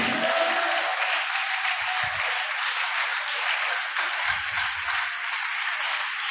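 A church congregation claps and cheers in praise during a fasting and prayer service, a continuous wash of applause from a crowd that stays fairly steady throughout, with no talk.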